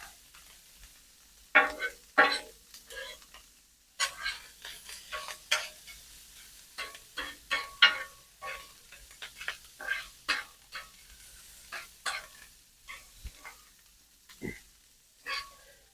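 Bacon, sausage and onions on a hot griddle for BBQ beans, a soft steady sizzle under repeated sharp scraping and tapping of a spatula, close and moderately loud, no talking.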